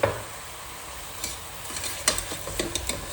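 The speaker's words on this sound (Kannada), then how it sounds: "ಸ್ವಲ್ಪ ಒಂದು 5 ನಿಮಿಷ ಮಸಾಲೆ ರುಬ್ಬೋ ತನಕ ಫ್ರೈ ಆಗ್ತಾ ಇರಲಿ" Country-chicken curry masala fries in a pan under a low, steady sizzle, with a few scraping stirs and clinks from a spatula in the second half.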